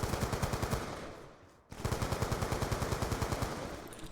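Automatic gunfire in the video game Call of Duty Black Ops 2: rapid, evenly spaced machine-gun bursts, a short pause, then another sustained burst.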